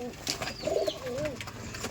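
Soft cooing of Rajshahi Giribaj pigeons, a few low warbling calls close by, with faint chatter and background noise around them.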